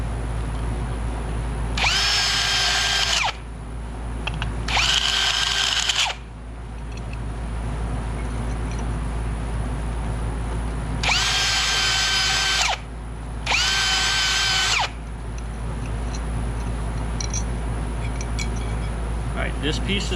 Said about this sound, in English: Right, and then you want to countersink this one to the smaller one here